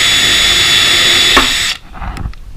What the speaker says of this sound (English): this is a pilot drill. It's a little bit smaller than what I'm going to end up with, so I'm just going to drill it with this